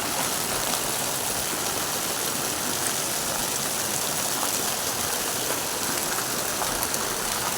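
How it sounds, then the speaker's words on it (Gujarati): Heavy rain pouring down in a dense, unbroken roar, loud and close, steady from start to finish with no talk. "જો વરસાદ પડે અંડરાધાર વરસાદ પડે છે"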